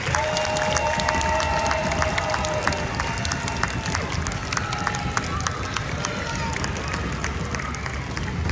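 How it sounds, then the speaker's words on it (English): Audience applauding and cheering for a guest speaker at a special visitors event: dense, steady clapping with scattered whoops, loud and close, filling the whole stretch. "So everybody put your hands together and clap for Hasan Black."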